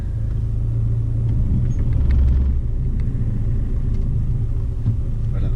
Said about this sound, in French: Voilà, là maintenant on peut dire que tu as démarré puisque tu as lâché complètement l'embrayage, la voiture roule.